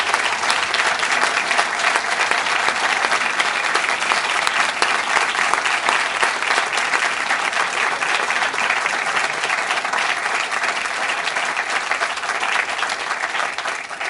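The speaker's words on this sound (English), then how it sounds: "give a round of applause to these great entrepreneurs and the work that they're doing" A dense, sustained round of audience applause fills the room for the ARC POWER grant award recipients, steady and loud throughout with no break or voices standing out.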